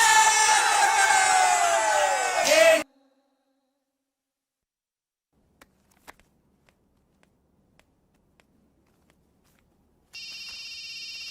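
A phone rings with a tonal electronic chime near the end, after a loud burst of noise and a long quiet stretch with faint clicks.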